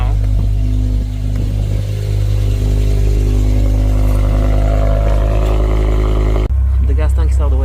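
A BMW E60 M5 with the S85 engine runs loud and steady, a dense mechanical drone with a low hum underneath. It cuts off sharply near the end, leaving quieter sounds.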